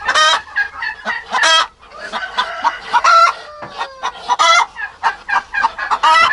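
Brooding hens cluck and squawk loudly and continuously up close, a busy overlapping chorus of several birds.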